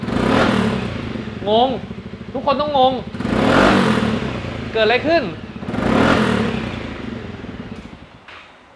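A motorcycle engine runs and revs with rising pitch sweeps, a steady low rumble underneath, while someone talks over it.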